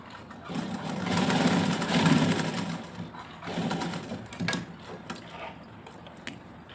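A sewing machine stitches lace onto the edge of a dupatta, a steady mechanical whirring that runs for several seconds with slight swells and dips and no talking.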